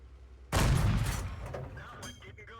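A 76mm tank gun in a World War II tank video game fires one loud, close, booming shot that rolls out into a decaying rumble.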